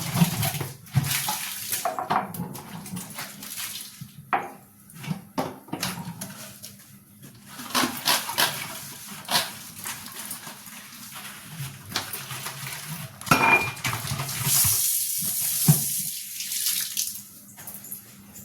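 Water runs from a tap in bursts while steel vessels and bottles clatter and scrape close by as they are scrubbed, with splashing that comes and goes in an irregular rhythm.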